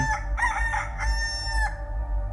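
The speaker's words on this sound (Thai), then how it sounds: "ผมได้ยินเสียงไก่ขัน" A rooster crows loudly and close, one full cock-a-doodle-doo with rising and falling notes, heard alone over a low background hum.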